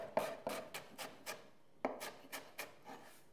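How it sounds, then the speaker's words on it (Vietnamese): Knife dicing a small peeled onion of about 160 g on a cutting board: a series of quick, crisp chops in two bursts with a short pause between, close and clear. "Một củ hành tây nhỏ khoảng 160 g, lột vỏ, rửa sạch và cắt hộp lựu."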